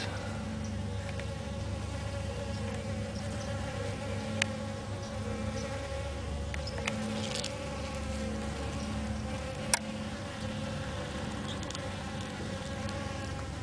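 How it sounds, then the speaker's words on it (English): Steady buzzing of bees around weed flowers in the morning, several insects droning continuously nearby with the hum rising and falling, no voices. "so let's look at the bees"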